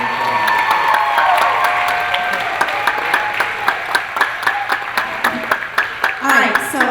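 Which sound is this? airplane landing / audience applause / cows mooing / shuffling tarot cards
audience applause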